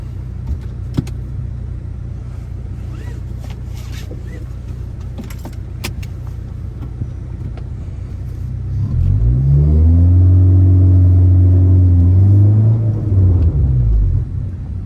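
A 2013 Honda Civic Si on the road, a steady low engine rumble inside the cabin that swells into a louder revving surge midway before easing off.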